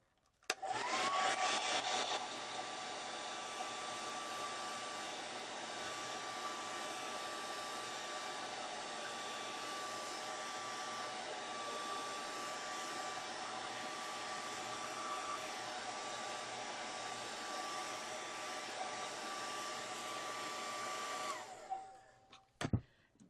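A hair dryer blows on wet paint on a gelli plate print, switching on with a burst and then running as a steady whooshing whine for about twenty seconds before cutting off with a few clicks.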